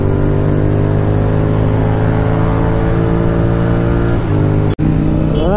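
A Royal Enfield Continental GT650 motorcycle engine, eleven years old, runs with a steady, loud idle rumble that rises in pitch near the end, followed by a brief cutout and a restart, with no talking.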